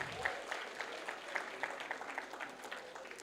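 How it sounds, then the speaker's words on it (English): An audience applauds a prize-winning group dance performance at a college event, steady dense clapping from a crowd heard from some distance, sustained throughout. "Can we have a big round of applause for all of them?"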